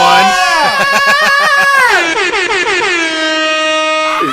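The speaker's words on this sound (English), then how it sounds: "Air horns galore for that" A loud, blaring air horn effect sounds in repeated stuttering blasts, then a long sustained honk, dominating the foreground during a livestream.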